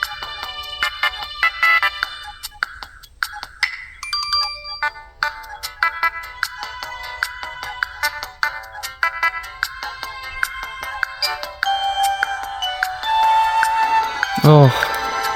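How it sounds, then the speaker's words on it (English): Nintendo DSi system theme song plays on its own, a bright synth melody with a steady beat and chiming electronic tones, continuing throughout with a short swooping tone near the end. "Let's listen to this beautiful DSi theme song."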